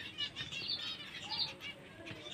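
Restless wing flapping from a pigeon gripped in someone's hand, a steady close flutter that carries on throughout without voices.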